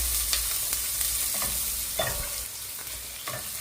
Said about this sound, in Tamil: இது நல்லா அஞ்சு நிமிஷமாக நல்லா வதங்கி கொண்டிருக்குது